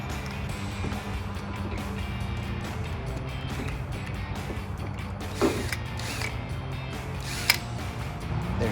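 A ratchet clicks as it drives screws into a fender flare on a 2004-2008 Ford F150, giving quiet mechanical ratcheting with a couple of sharper clicks over low background noise.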